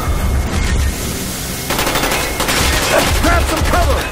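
Dense bursts of automatic gunfire from Call of Duty: Black Ops on Xbox 360, in the Veteran-difficulty campaign mission "Redemption", rattle loud and close throughout, with voices shouting over the shooting near the end.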